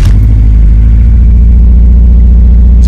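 Honda EP3 with a K20 engine running rough and uneven on three cylinders, a loud, steady low rumble with a lumpy pulsing idle close by for the whole stretch.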